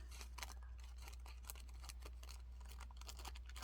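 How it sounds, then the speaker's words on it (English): Scissors cut paper for a craft book page, a series of close crisp snips and rustles in quick irregular succession over a low steady hum. "Struggling with cutting."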